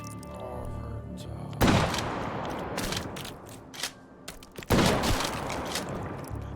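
Shotgun blasts in a video game, two loud booming shots several seconds apart, each followed by a decaying rumble, with other game sounds in between.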